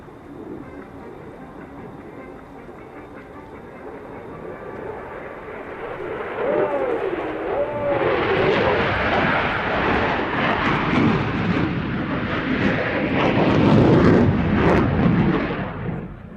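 A Soloturk aerobatic display jet flies maneuvers at an airshow, a broad roaring engine rising from a distant rumble to a loud sweeping pass with shifting whine, crowd ambience beneath.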